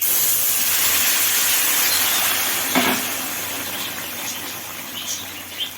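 Curry added to a hot pan while tengra fish cooks, a steady hiss of sizzling that fades slightly, with a few faint clinks, no talk over it.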